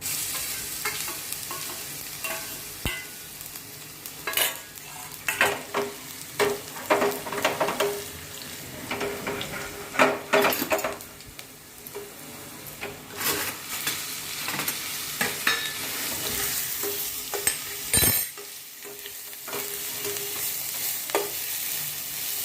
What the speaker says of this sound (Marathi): आता ही अद्रक लसूण पेस्ट टाकू.